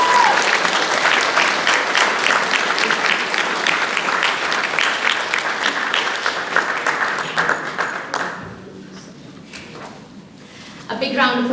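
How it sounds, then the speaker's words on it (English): Sustained applause from a crowd, dense clapping that tapers off toward the end, with a brief burst of claps returning at the close. "A big round of applause for them again."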